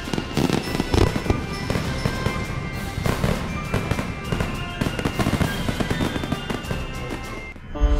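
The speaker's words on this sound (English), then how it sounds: "Fireworks get better every year, promising bigger, better explosions that come in all shapes and sizes." Fireworks explode in a rapid, dense barrage of crackling pops and booming bursts with ringing tones, loud and continuous for the whole stretch, with no voices.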